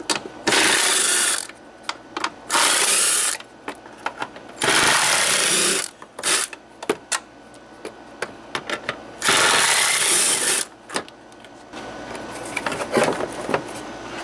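Rapid ratcheting clicks from a 10mm ratchet wrench loosening bolts on a 2003 Dodge Neon automatic transmission mount, coming in several loud bursts separated by short pauses.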